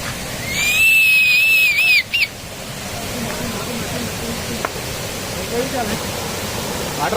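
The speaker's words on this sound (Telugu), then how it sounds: "ఇక వాటర్ ఫాల్స్ కనిపిస్తుండొచ్చు సౌండ్ వస్తుందా" Sirnapally waterfalls near Nizamabad send out a continuous broad roar of rushing water. A sharp whistle cuts in briefly near the start, then the steady wash carries on alone.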